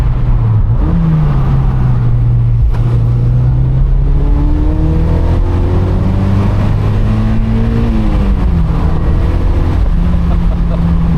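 A car fitted with an upgraded exhaust revs hard in third gear through the mid-range, its loud, close engine note climbing steadily with short dips at shifts, a continuous throaty drone with no talking.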